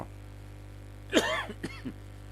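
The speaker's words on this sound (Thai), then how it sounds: "ต้องขอสุมาอภัยเนอะมีเสียงกระแอมกระไอ" A person coughs and clears their throat in a short burst of two or three rasping sounds, close by, over a faint steady hum.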